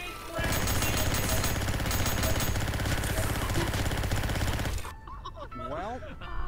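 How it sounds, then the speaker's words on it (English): Rapid automatic gunfire from a wide-spread weapon in VRChat, a loud sustained burst lasting several seconds before cutting off abruptly into quieter game sound and a voice. "This gun has a widespread attack."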